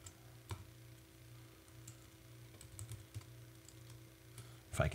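Keystrokes on a computer keyboard while entering search terms into lead-finding software, a few soft, scattered taps with a brief louder burst at the end, faint over a steady low hum.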